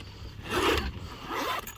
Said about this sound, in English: zip her up.